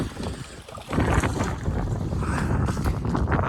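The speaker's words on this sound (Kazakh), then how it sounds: "Осы күн жел салқын." Cold winter wind blows hard across an outdoor microphone, a steady rumbling roar that swells after the first second and keeps buffeting through to the end, with no talking.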